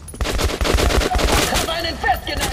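Gunfire in Metro Last Light: a rapid automatic burst of close, loud shots for over a second, then scattered fire and game noise trailing off.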